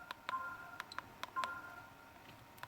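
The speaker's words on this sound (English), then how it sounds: "there are sounds from Windows XP Media Center" Several short electronic beeps and soft clicks from the Windows XP Media Center interface, a few brief two-tone chimes among them, sound quietly in an otherwise hushed room.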